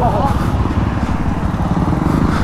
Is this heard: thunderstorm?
no